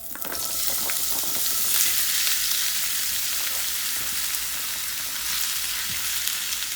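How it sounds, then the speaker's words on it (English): Pork and onion fry and brown together in a pan, a loud, steady sizzle close up with occasional scraping as the meat is stirred, and no voices. "We're going to add the pork and the onion together."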